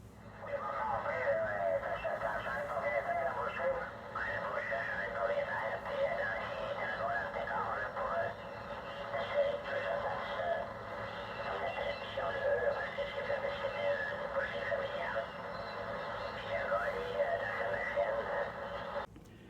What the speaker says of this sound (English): This is some ham radio stations using single sideband mode.